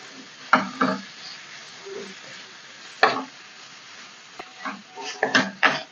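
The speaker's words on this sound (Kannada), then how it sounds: "ಎಣ್ಣೆಲಿ ಚೆನ್ನಾಗಿ ಫ್ರೈ ಮಾಡಿ" Oil sizzles steadily in a pan while egg curry cooks, and a spoon scrapes and clatters in several distinct bursts against the pan.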